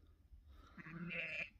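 A single sheep bleats from a farm pen, one drawn-out wavering call rising over about a second before fading, faint and alone.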